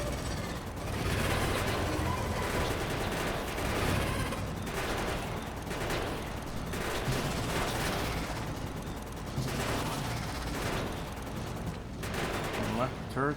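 Turrets firing in Factorio, a dense, sustained stream of rapid automatic gunfire with recurring surges of intensity, continuing loudly throughout with faint talk underneath.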